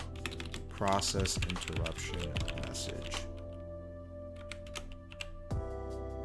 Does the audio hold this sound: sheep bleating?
no